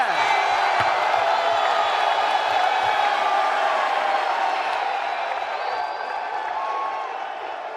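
A rowdy crowd at a UFC 298 pre-fight press conference roars with sustained cheering, whoops and applause, loud and continuous throughout, easing slightly toward the end.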